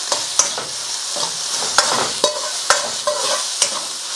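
Bean sprouts sizzle steadily in a pan with spaghetti chow mein, punctuated by regular scraping clacks of stirring, close and fairly loud.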